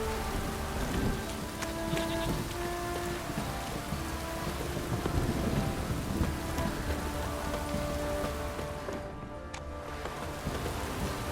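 Steady rain pouring onto surfaces in a video game set in Velen, constant close hiss and patter with low thunder rumbling underneath, even and continuous, no speech.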